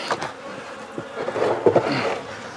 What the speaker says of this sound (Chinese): 突然，从远处飞过来的蜜蜂急剧增多。